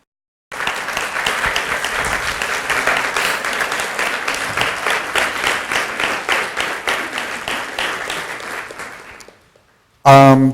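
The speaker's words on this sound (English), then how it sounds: "If you can stand and be recognized and give them a round of applause." A luncheon audience gives a standing round of applause, dense and loud, swelling and holding for about nine seconds before fading out, followed by a brief separate burst of sound.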